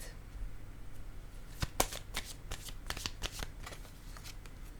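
Playing cards are shuffled and drawn during a card reading, heard as a quick run of crisp, close riffling flutters and snaps with no voice over them.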